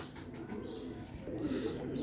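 Golden and blue pigeons coo softly in a breeder's loft, low murmuring calls repeating quietly with faint rustling behind them.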